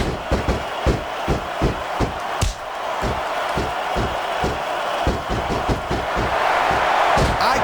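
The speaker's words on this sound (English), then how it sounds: "I can't remember the last time I seen a crowd so pumped up." A steady roar of an arena crowd fills a WWE SmackDown vs Raw 2006 women's submission match, punctuated by rhythmic thuds and slams from the ring, loud and continuous with faint commentary voices mixed in.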